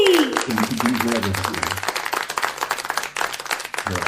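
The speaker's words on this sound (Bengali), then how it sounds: "জোরে একবার হাততালি।" Clapping rises for a second child arriving on stage, a quick run of claps starting under a voice and continuing after it stops, close and fairly loud.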